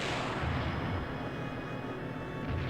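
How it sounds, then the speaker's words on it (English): A torpedo launch in the airship battle game Skies of Arcadia, a dense, sustained roar of rumbling blasts and booming fire that fills the whole stretch at steady loudness, with no talk over it. "Alright, so send out the torpedo."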